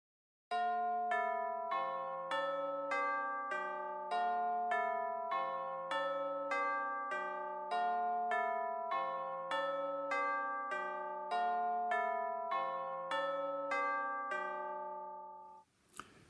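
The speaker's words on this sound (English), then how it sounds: "Now the bells are tuned like this. And they can be rung in any order." Tuned bells struck one after another in a steady repeating pattern, each ringing out and overlapping the next, clear and fairly close.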